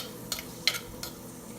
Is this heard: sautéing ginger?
yes